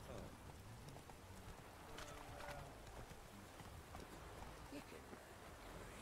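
Horse hooves clip-clop in The Witcher 3 game world, a soft steady patter running through the clip under a rain-like wash of ambient noise, with faint speech mixed in.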